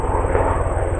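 A helicopter flies by with a steady engine drone and a low, rhythmic thumping of its rotor blades, fairly loud and close, with no voices.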